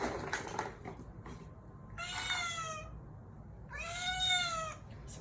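A stray cat out in a Chicago winter meows twice, each call drawn out and clear, with a pause between them over faint background noise.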